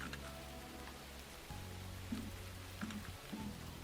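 Faint, steady rain falling on city streets as background ambience for a tabletop role-playing game, an even hiss of patter with a low hum and a few soft tonal blips, no voices.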